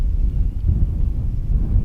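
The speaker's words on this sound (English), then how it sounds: "It's significantly colder and it's very windy up here." Strong wind buffets the microphone on an exposed mountain peak above Death Valley, a steady low rumbling roar with gusty swells throughout and no voices.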